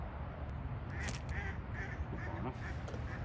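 Ducks quack on a fishery lake beside a steady wash of wind and water noise. Several short, nasal calls come in a loose cluster at moderate distance, partly masked by the rushing background.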